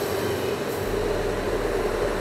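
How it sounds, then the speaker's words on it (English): A low, steady rumble of a train arriving at a station in Oslo, Norway, heard from nearby with a constant mechanical drone and no voices. "Waiting at the train station. Wouldn't you know? The train comes."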